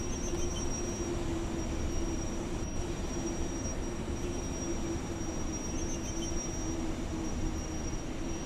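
A DB BR 194 electric locomotive in a train simulator pulls its train against applied brakes, giving a continuous heavy rumble with a steady tonal hum and a faint high squeal running throughout.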